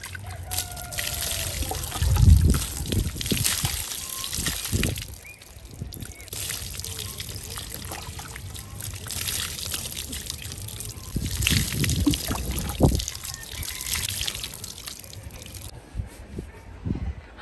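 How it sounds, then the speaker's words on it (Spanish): Water is poured from a gourd bowl during a bath, splashing in uneven bursts of trickling and pouring separated by quieter gaps, close and fairly loud. "a jicarazo hay que bañarse"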